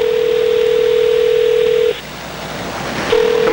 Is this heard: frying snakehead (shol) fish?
no